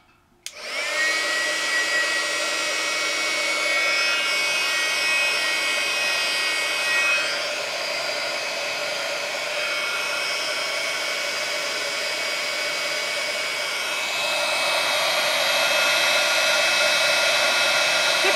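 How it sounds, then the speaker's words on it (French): A heat tool blows loudly and steadily while melting embossing powder on a decorated ribbon bow for an Easter basket, a continuous whirring roar with a slight shift in pitch partway through and no speech. "je vais faire fondre ma poudre à embosser."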